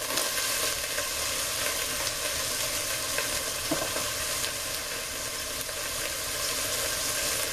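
Onions and tomatoes sizzle steadily in a frying pan, a dense, continuous crackle and hiss with faint stirring, close and even throughout, with no voices.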